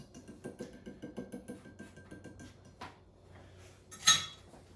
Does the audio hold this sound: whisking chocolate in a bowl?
yes